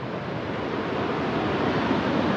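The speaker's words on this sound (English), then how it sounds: "maybe you guys can hear the waves" Continuous rushing surf from ocean waves at a wooden pier in Myrtle Beach, a broad steady wash with some wind noise, no voices.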